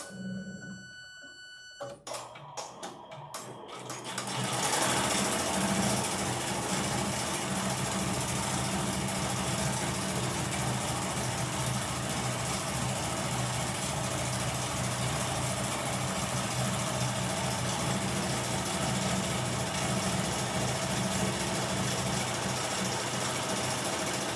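An embroidery machine stitches pink thread in the hoop, starting with a few clicks, then settling into a loud, steady, rapid mechanical hum and patter that runs on without talk.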